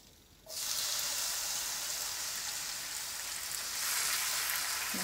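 Tomatoes tossed into a hot pan of golden fried garlic hit the oil with a sudden loud sizzle that starts abruptly and holds as a steady, close, hissing fry, with no voices over it.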